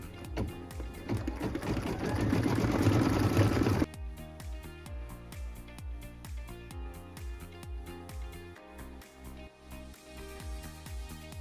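An embroidery sewing machine stitches the word autumn in burnt orange thread for a wall hanging. A loud, steady mechanical whir runs for about four seconds, then gives way to lighter, rhythmic ticking pulses.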